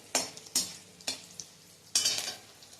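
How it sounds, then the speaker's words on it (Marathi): A bay leaf sits in hot oil with a faint sizzle while a utensil scrapes and taps the pan in several distinct strokes, the last one lingering a little longer. "तमालपत्राचा रंग बदलला की मग त्यात घालणार आहे 1 चमचा जिरे"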